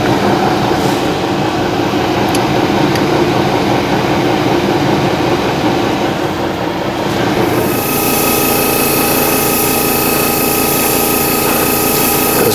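Airbrush spraying light gray Revell Aquacolor paint thinned with rubbing alcohol, a loud steady hiss with a rumbling background that changes character partway through, with no speech.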